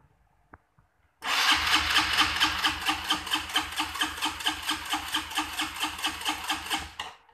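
A motorcycle electric starter cranks the engine during a starter-system test with the ignition on: after a brief quiet, a loud steady rhythmic whirring cranking runs for about six seconds, pulsing evenly, then cuts off.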